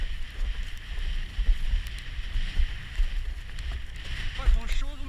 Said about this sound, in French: c'est très rafaleux.